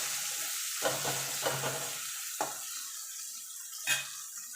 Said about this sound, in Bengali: পেঁয়াজটাকে একটুখানি লাল লাল করে ভেজে নেবো